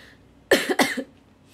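Two quick, sharp coughs close up in a quiet room, the second trailing into a short rasp.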